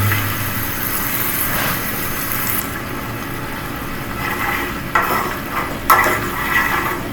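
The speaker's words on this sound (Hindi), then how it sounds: "थोड़ी देर भून लेंगे।" Chicken karahi masala frying in a pan, a loud, dense sizzle with stirring scrapes and a few sharper knocks of the spoon against the pan toward the end, no talking.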